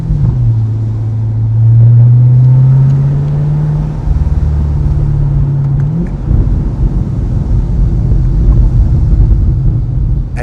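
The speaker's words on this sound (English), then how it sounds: "you hear it like a symphony with the AWE touring exhaust" A C8 Corvette engine fitted with an AWE touring exhaust rumbles low and close, its exhaust droning with a slow rising tone and then settling into a rough, steady burble.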